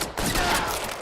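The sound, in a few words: gunfire in the video game LA Noire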